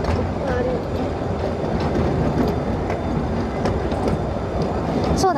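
Small wheels of a miniature train clatter steadily along rails at a children's park, a continuous rolling rattle with faint clicks, and no voices.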